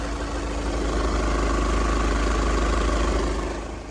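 A used Honda or Hyundai crossover idles at a car market, its engine running in a steady, continuous hum with a low rumble that holds even throughout and eases slightly at the end, with no talk over it.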